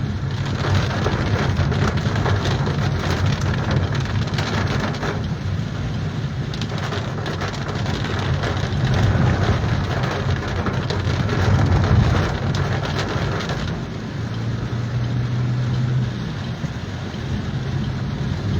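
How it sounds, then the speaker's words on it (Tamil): Heavy rain pouring steadily onto pavement, a dense continuous wash of noise with a low rumble underneath. "மழையும் விடல தொடர்ந்து பெஞ்சிக்கிட்டு இருக்கு"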